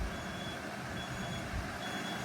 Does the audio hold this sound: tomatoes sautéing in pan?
no